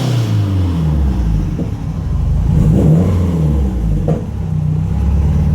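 A 2007 Subaru STI held on launch control with the throttle pinned, its engine droning loud and close at high revs, with a few brief flutters and surges.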